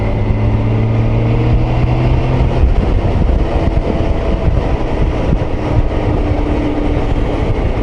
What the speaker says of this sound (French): si je mets la 6, la boîte de vitesse a l'air de mieux fonctionner